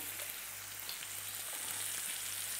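Tomato paste and meat sautéing in a pan for chilli con carne, giving a steady, even hiss of frying with faint stirring scrapes, close and continuous.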